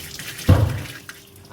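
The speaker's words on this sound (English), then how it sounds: "Okay, so our next step is to strain the noodles." Water pouring out as boiled ramen noodles are strained, a short splashing gush that starts suddenly and then trails off into faint dribbles, close and fairly quiet.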